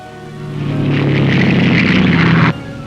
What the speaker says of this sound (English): Planes like this Airspeed Ambassador